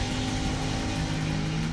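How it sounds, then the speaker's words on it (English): Cars drag racing at midnight down a west-side neighborhood street, a steady loud engine drone with a sustained low hum running throughout, no voices. "Drag racing down a neighborhood street."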